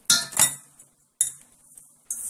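Utensils clink and scrape against a bowl while boiled bean sprouts and half a cucumber are tossed together for a chilled soup, three separate bursts of metallic clatter with quiet gaps between, close and fairly loud.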